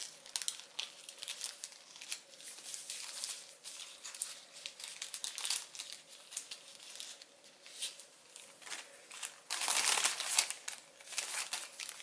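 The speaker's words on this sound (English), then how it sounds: "I'm going to push in here and then hold this mountain fold and then collapse over." Paper being folded and collapsed into an origami cactus, with soft, close crinkles and rustles in irregular bursts and a louder crumple near the end.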